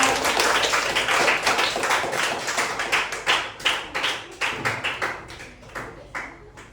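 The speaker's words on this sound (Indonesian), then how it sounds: "beri tepuk tangan buat teman-teman ya." Classroom audience clapping after a presentation, starting as a brisk group patter that thins into separate, distinct claps and slows to a few final hits.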